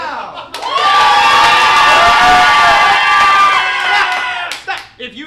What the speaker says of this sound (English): If you think the winner of this fight is Candy, clap now.